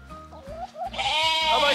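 Sheep from a farm flock bleat close by: a few short wavering calls, then one louder, drawn-out bleat.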